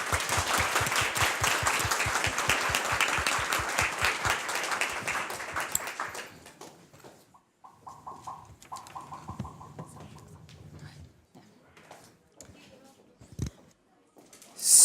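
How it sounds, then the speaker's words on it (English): Audience at a business conference applauds a speaker with brisk, rhythmic clapping, close and loud for several seconds, then dies away into quiet room noise and faint movement. "give one final applause for Timo"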